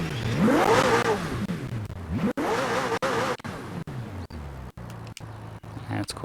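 A McLaren Senna in Forza Horizon 4, caught in a braking glitch, revs in rising and falling engine sweeps that repeatedly cut out abruptly, loud and close, with someone talking over it.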